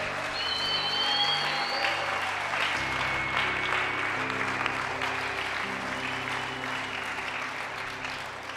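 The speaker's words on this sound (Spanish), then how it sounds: "Dele un fuerte aplauso a nuestro Dios." A church congregation claps loudly and steadily in a sustained round of applause during a worship service, with organ or keyboard tones holding underneath.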